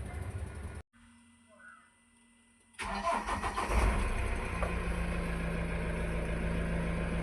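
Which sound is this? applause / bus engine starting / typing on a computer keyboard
bus engine starting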